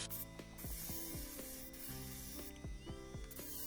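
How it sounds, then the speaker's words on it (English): A low-powered Parkside PTSG 140 C2 disc sander runs quietly against the work, a faint, steady motor hum with soft rubbing and slight pitch dips as pressure changes. "Low powered and quiet for a sander."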